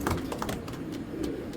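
Giribaj pigeons coo softly at close range under a busy rustle, with short repeated low murmurs and light scattered clicks.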